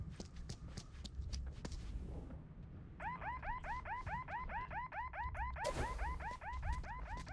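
An alarm gadget goes off in the video game Project Octavia, a repeating electronic warble of rising chirps that runs steadily for several seconds after earlier clicks and footstep-like taps.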